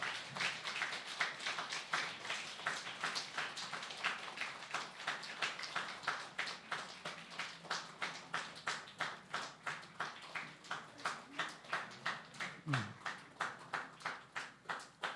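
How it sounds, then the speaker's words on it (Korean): A church congregation claps in welcome during a deacon ordination service, the steady rhythmic clapping running the whole time at moderate distance, with a brief low voice near the end. "박수로 환영해 주시면 감사하겠습니다"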